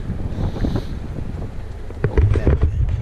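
Gusty wind buffeting the microphone while cycling along the US Pacific Coast with a tailwind, a low blustery roar that swells louder toward the end.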